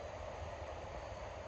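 An eastbound Norfolk Southern freight train approaches on the Pittsburgh Line through the Juniata River Valley near Huntington in autumn, a faint, steady, distant rumble blended with the broad wash of a flowing river, with no voices.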